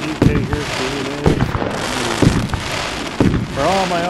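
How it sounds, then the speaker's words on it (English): Fourth of July fireworks bursting outdoors, with four loud sharp booms spaced about a second apart over constant crowd chatter and whistling whine between the blasts. "you deserve the firework show you deserve without no rain or anything it gets in your way"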